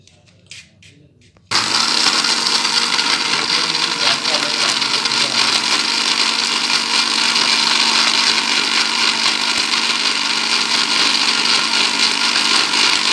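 After a moment of quiet, an electric blender grinding cardamom pods for almond sharbat kicks in abruptly and runs loud and steady with a harsh whirring roar.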